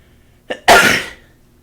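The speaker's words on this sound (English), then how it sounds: "You'll just have to deal with me sneezing." A single person sneezes loudly and close by, with a short intake of breath just before the burst.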